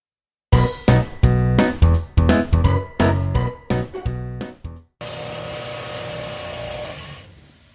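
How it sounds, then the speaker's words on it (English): Wire brush scrubbing old screwdrivers clean, loud close rhythmic scraping strokes in quick bursts, then a steadier continuous rough buzzing that fades out at the end. "do a quick initial wire brush"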